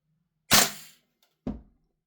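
A UK-bought VFC L403A1 (KS-1) airsoft rifle shooting at about 1.2 joules gives two sharp, close cracks roughly a second apart. Each crack has a quick, short decay, and there is silence around them.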